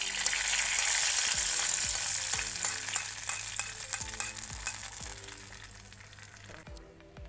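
Hot tempered mustard seeds poured into a curd mixture for a gooseberry curry, giving a loud continuous sizzle with repeated stirring clinks and scrapes, close up and with no talking.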